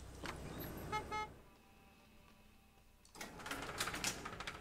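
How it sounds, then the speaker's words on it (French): Car horn honking at a fuel station in the video game Gas Station Simulator, a few short toots near the start, then quieter ambience before busier traffic noise returns. "J'aime pas que tu me klaxonnes, toi."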